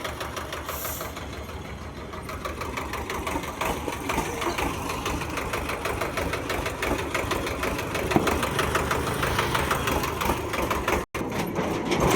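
A Sonalika tractor engine running while it reverses: a close, continuous rumble with a fast, even knocking beat that holds steady throughout.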